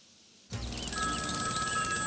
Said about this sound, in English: we factor in the mind-shattering sound of the ringing phone